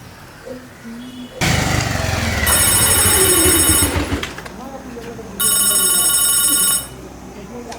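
A telephone bell rings loudly in two long bursts with a pause between, over a rumbling engine-like drone.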